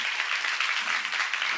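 A church congregation breaks into applause during a sermon, a brief burst of dense clapping from many hands, moderately loud and continuous with no voices over it.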